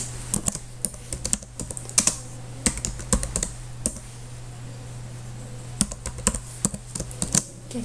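Shortcode being typed on a computer keyboard, irregular bursts of crisp close key clicks with a short pause in the middle, over a low steady hum.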